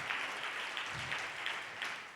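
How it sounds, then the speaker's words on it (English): An audience at an education leadership event applauds in steady, sustained clapping that stays fairly even throughout, filling the room without talk on top. "another round of applause for Magda Hernandez."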